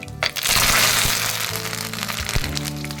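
Chopped garlic, dried red chili and curry leaves go into a hot pan on a low flame for a mango-ginger pickle. A sudden loud burst of sizzling follows, then settles into steady, close crackling with sharp pops.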